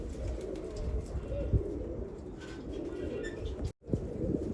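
A pigeon of a prized breed coos in soft low repeats while held in the hand, under someone talking nearby with steady background noise.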